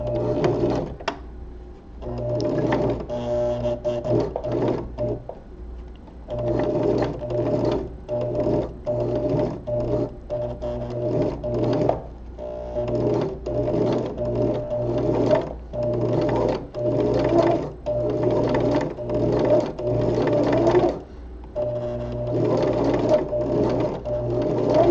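A sewing machine stitching a seam runs in steady whirring bursts with brief stops between, a close, moderately loud mechanical hum and needle clatter, no talking.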